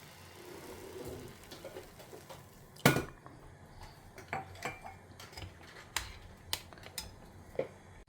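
Milk being stirred in a pot in a home kitchen, scattered metallic clinks and taps of a utensil against the pot over a faint background, with sharper knocks near the middle.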